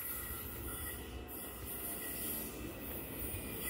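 An older metro train at Asa Sul station in Brasília rumbles steadily through the station, with high wheel squeal rising and falling over the continuous rolling noise and no voices.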